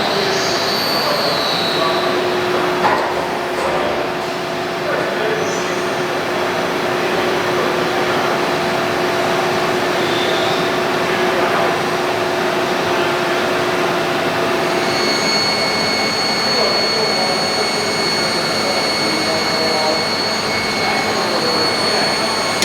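A CNC end mill taking a light skim cut, heard as a steady high machining whine with a sustained tone over continuous motor hum, fairly loud throughout.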